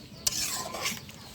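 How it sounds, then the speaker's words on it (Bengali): Roast masala spices being stirred in a pan, a brief close scraping rasp of a spoon over a low sizzle, with one sharp scrape at the start. "এখন সব কিছু দিয়ে একসাথে সব মশলা নাড়া দিয়ে নিলাম"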